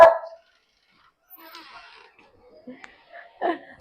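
A dog at a village house gives a few brief, scattered barks and yips in an otherwise quiet yard. The loudest bark comes last, with faint movement sounds between.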